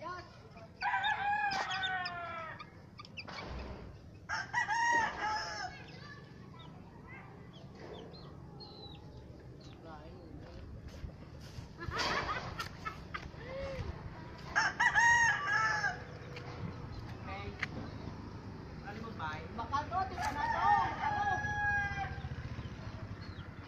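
A rooster crows several times in succession, loud and nearby, with clucking and quieter farmyard sounds in the gaps.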